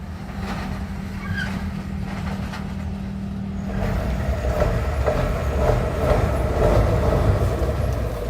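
A locomotive on a trial run crosses former dual-gauge narrow lorry track at the Semboro sugar mill near Tanggul, rumbling steadily with a low hum, then rhythmic wheel clatter over the rail joints growing louder as it passes close.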